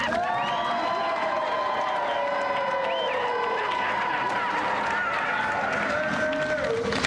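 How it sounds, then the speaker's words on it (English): A video-game show's studio audience cheers and shouts over steady clapping for the departing challengers, a continuous, fairly loud roar of voices lasting several seconds. "Round of applause, please, but not too loud"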